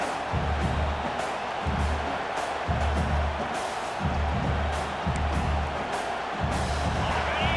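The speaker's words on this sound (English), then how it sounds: "This crowd, full throat, splitting the eardrums" Loud football stadium crowd roaring as the home defense holds, a broad sustained wall of cheering with rhythmic low thumps pulsing underneath and a commentator's voice over it.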